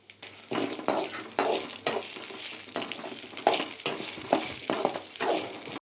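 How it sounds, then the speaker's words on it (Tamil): Garlic and curry leaves frying in oil, crackling sizzle broken by repeated stirring strokes in a rhythmic pattern, close up and without speech. "பூண்டு, கருவேப்பிலை எல்லாத்தையும் நல்லா வறுத்து எடுத்துக்கலாம்"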